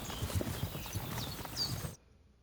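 A horse walks in the video game Kingdom Come: Deliverance 2, its hooves clip-clopping in a soft, even rhythm before the sound cuts off abruptly into silence.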